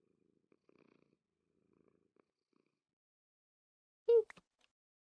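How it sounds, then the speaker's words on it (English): Soft, low purring comes in faint, uneven stretches, then a short, louder chirp-like cat sound breaks the quiet near the end. "Oh, and it's purring at you."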